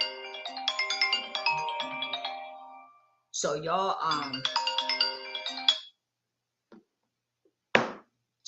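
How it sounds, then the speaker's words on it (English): A mobile phone ringtone plays a bright electronic melody in two bursts separated by a short gap, fairly loud and close, followed by brief talk and a few clicks. "that was my phone ringing"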